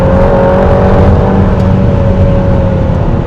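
An Aston Martin Valhalla's engine roars loudly and steadily with a sustained high-revving tone during a quick track lap, holding a strong, continuous drone close up without pause.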